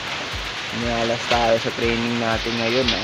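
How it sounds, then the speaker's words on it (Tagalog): Heavy rain pours steadily at a pigeon-racing loft in Culasi, a dense continuous hiss running under nearby speech throughout. "Dahil nga sa lakas ng ulan na to."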